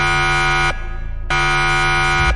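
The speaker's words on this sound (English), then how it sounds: "they press this buzzer." A loud, harsh electronic game show buzzer blares in two long bursts separated by a brief gap, steady and grating.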